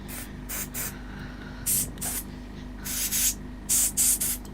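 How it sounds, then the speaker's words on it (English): An airbrush sprays paint in short bursts, six or seven sharp hissing puffs of uneven length over a steady low hum in the background. "so take your airbrush"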